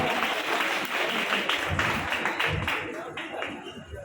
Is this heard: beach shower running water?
no